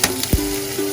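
Akule fish frying in garlic butter, a short burst of close, steady sizzling with a quick clink or scrape partway through, no voices.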